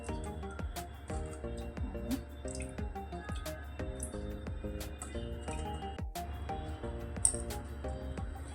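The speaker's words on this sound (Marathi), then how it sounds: "जे बीट वाटून घेतलेलं त्याच्यामध्ये थोडंसं पाणी टाकून घेतलेलं आहे आणि त्याच्यामध्ये टाकलं आता आपण हे गाळून घेऊ" Blended beetroot mixed with a little water is strained, and juice falls as a quick, rhythmic run of close, distinct drips with some faint background tones.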